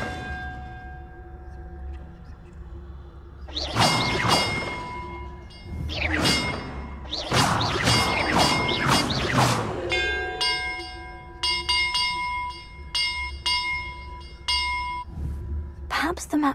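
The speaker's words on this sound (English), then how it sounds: "Perhaps the map contains clues about the order I'm supposed to ring the bells in." Bells ring out in a Hogwarts Legacy bell-tower puzzle, several loud struck tones in separate bursts with long resonant tails, over a steady game ambience hum.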